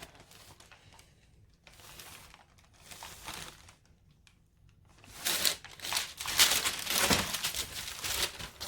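Fusible interfacing is shuffled across fabric and ironed down, giving soft rustling and crinkling of the material that swells into louder scraping, sliding sweeps close by.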